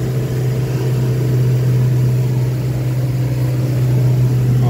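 A boat engine runs steadily on a drifting boat in the Everglades, a loud, continuous low hum with no pauses or change in pitch.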